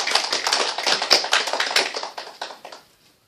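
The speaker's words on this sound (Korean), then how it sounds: "맞는다고 생각하는 사람들 박수 한번 쳐봐요" A small church audience bursts into brisk, close clapping that goes on for a few seconds, thins out and stops.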